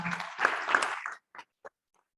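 Audience applause at a conference panel on energy in Nigeria: a dense burst of clapping for about a second, then thinning into a few scattered, separate claps before falling silent.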